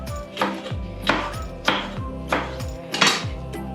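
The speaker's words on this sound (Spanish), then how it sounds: "vamos a pelar y a cortar lo más pequeñito que podamos los ajitos" Peeled garlic being finely chopped with a knife on a board for a marmitako stew, about six crisp, evenly spaced knife strikes with short ringing tails, close and clear with no voices.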